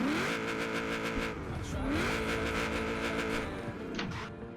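Mitsubishi Lancer Evo built in Tokyo Drift movie style revving hard close by, the engine climbing in pitch in repeated pulls with a short drop between them, loud and steady, with no talk.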